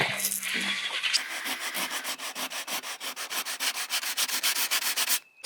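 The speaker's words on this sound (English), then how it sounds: "So we've thoroughly sanded this." Rhythmic back-and-forth hand sanding on the painted hull of a sailboat out of the water, close and steady, with regular strokes about five per second after an initial rougher rub.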